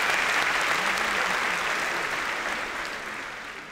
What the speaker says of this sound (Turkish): Onların hepsine büyük bir alkış alabilir miyiz?